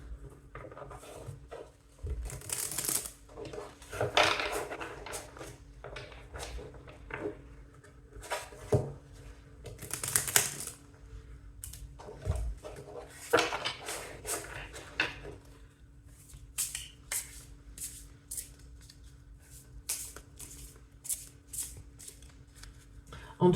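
Tarot cards shuffled by hand over a table in repeated riffling bursts and soft rubbing patters, close and moderately loud, with quiet pauses between runs and occasional faint speech.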